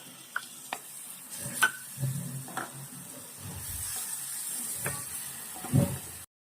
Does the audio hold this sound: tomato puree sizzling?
yes